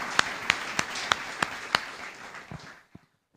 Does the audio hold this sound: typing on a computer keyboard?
no